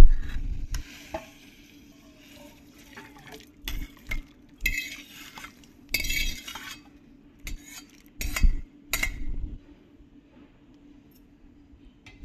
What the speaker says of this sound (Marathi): आता आपण हे शिजले ते आपण एका भांड्यात काढून घेऊ.